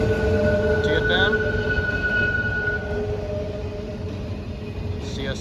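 A CN eastbound manifest freight train led by ET44AC locomotive 3095 rumbles loudly past Mission City Station, with steady wheel and car noise, squealing wheels and a brief horn-like tone near the end.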